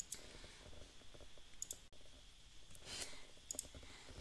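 Several sharp computer mouse clicks spaced irregularly over a quiet background, as someone clicks through a 3D mapping program on a computer.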